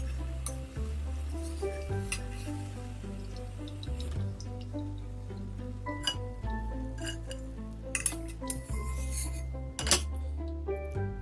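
Bhajiya fritters fry in hot oil with a steady close sizzle, and a utensil turns them now and then, adding scattered metallic clinks and stirring sounds.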